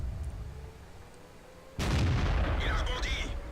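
A tank cannon fires in World of Tanks, a single sharp heavy boom that cuts in suddenly over low background hum and then rumbles on.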